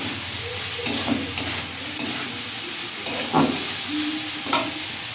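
Potatoes fry and get stirred in a pan with fish in a village kitchen, giving a steady close sizzle and hiss with occasional scraping stirs and clinks throughout.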